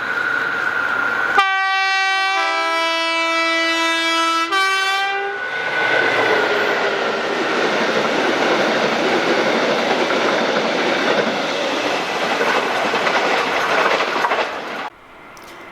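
Sleeper empties train hauled by locomotive 73971 on the Aberdeen to Polmadie run, sounding a loud two-tone horn, then a long steady roar and rumble of wagons passing close by, fading away at the end.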